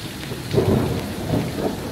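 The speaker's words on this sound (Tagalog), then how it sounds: "Lakas ng kidlat guys." Thunder from lightning rumbles low and close through a heavy rainstorm on Corfu, a deep swelling roll layered over the constant hiss of rain pouring onto surfaces.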